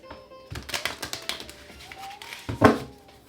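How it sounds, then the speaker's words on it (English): Rapid crisp riffling of cards in short bursts, fairly close, ending in one louder snap as the deck comes together. "2 more shuffles."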